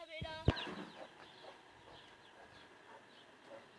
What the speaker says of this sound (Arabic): انظروا إلى أفراخ الدجاج.